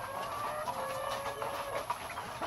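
Kabir breed chickens cluck in soft, intermittent bursts at a farm breeding pen. The clucking sits at a moderate distance over a steady background hiss.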